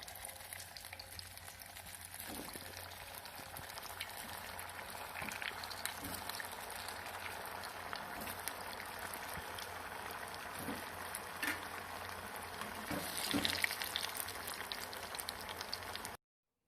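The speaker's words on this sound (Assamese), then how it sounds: "কেৰাহীত এতিয়া মই লাহে লাহে এটা এটাকৈ দি ভাজি যাম" Vegetable bread cutlets fry in a heated kadai with a quiet, continuous sizzle and crackle. The sound stays steady for a long stretch and briefly swells near the end, with no voices.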